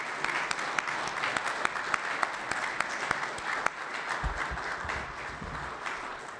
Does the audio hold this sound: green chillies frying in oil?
no